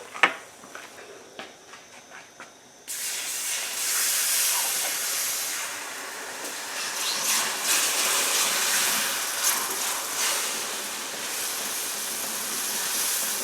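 Three cups of milk poured into a hot skillet of country gravy for hamburger steaks, starting with a sudden loud hiss that settles into steady sizzling and bubbling, after a few quiet clinks at the start.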